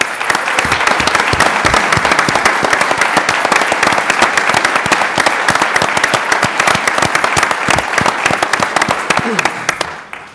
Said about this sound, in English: Could you just please help me give a round of applause to Jolene Sullivan?